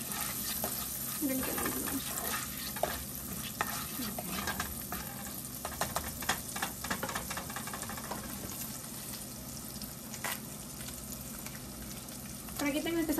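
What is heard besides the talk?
sautéing chili con carne with oregano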